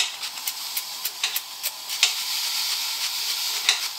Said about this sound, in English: Yeah, sizzling away nicely.